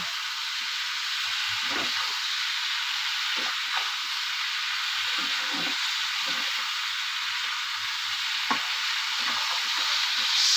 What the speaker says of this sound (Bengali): আমি ভালো করে ভেজে নেব।